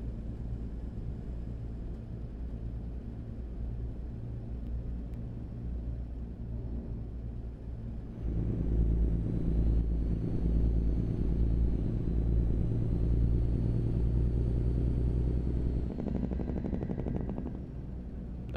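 Cummins N14 diesel truck engine in a Peterbilt 389 in American Truck Simulator, a steady deep rumbling drone that swells louder and heavier midway, then settles back with some rapid crackling pulses near the end.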